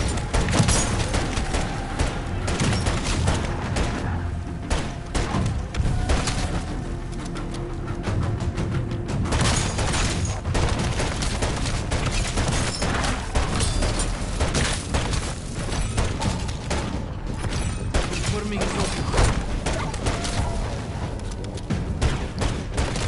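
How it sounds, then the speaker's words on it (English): Heavy gunfire from a PTRS anti-tank rifle in Modern Warfare Zombies, dense and continuous with repeated booming shots and mechanical clatter layered over a loud, busy game mix throughout. "PTRS anti-tank rifle, incapable of going through 2 zombies."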